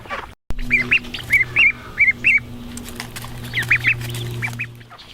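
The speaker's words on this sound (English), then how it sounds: "This is the duck update." Ducks on a farm quack in short repeated bursts over a low steady hum, several calls close together then a pause before a few more.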